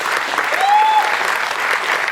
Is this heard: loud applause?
yes